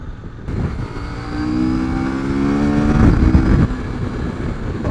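A CF Moto 800MT motorcycle's big engine revs up hard, then chugs and splutters as the throttle shuts off, a close, rising drone with harmonics that breaks into uneven pops and burbles.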